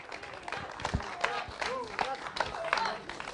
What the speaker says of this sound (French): Mesdames et messieurs, sous vos acclamations, Nourat.